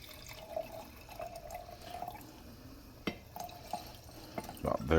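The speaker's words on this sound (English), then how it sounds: "we're going to give it a standard pour of wine." Liquid trickles and gurgles softly as it is poured into a glass, with a few light clinks and a brief louder splash near the end.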